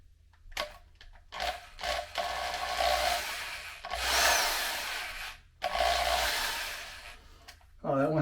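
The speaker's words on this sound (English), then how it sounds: "I'm going to go ahead and try to drill this hole first" A drill bores a hole into the wooden body of a vintage guitar build in several loud bursts of whirring and grinding, separated by short pauses, with a brief voice at the end.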